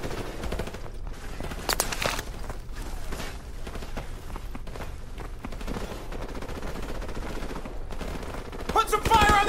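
Sustained automatic gunfire crackles through a Call of Duty Modern Warfare firefight, dense overlapping bursts from several weapons at mid distance, with footsteps mixed in and shouted voices over the shooting.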